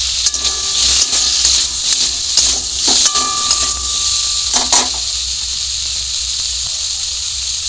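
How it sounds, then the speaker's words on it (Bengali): Vegetables fry in a pan with salt and turmeric powder in a Bengali village kitchen, a loud, close, continuous hiss and sizzle with a few sharper bursts as the pan is stirred. "লবণ দিয়ে সবজিগুলো একটু ভেজে নিয়েছি। এবার দিয়ে দিলাম হলুদ গুঁড়ো,"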